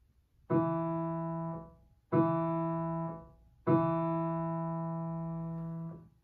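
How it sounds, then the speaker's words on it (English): Three sustained low keyboard notes play one after another, each held for about a second or more and decaying slowly, with brief silences between. "I'll play the bass line first"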